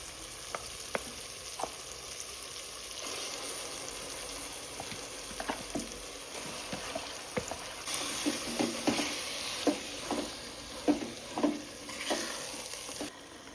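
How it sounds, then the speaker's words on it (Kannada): Marinated chicken for chicken biryani sizzles steadily in hot oil while a utensil stirs and scrapes the pan. The scrapes come more often and grow louder toward the end, and no one speaks. "ಎಣ್ಣೆ ಬಿಟ್ಕೋಬೇಕು ಅಲ್ಲಿವರೆಗೂ ಫ್ರೈ ಮಾಡ್ಕೊಳ್ಳೋಣ"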